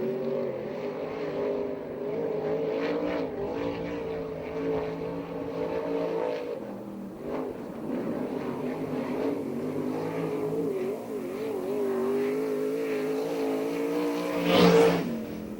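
USAC/CRA sprint car at Perris, California running a rookie's qualifying lap, a loud continuous engine drone with rising and falling revs throughout, swelling to a sharp peak near the end as the car passes close.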